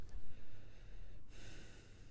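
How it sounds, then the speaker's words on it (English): Sharp nasal breath during a core stability exercise with the abdominals braced, a quick snort-like intake followed by steadier airy exhalation, close and fairly loud with no talking. "but we still focus on the breathing."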